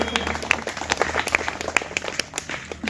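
An audience at a girls' school applauds students after they sing the national song, with brisk, close clapping from a roomful of hands for a few seconds and a few sharper individual claps standing out.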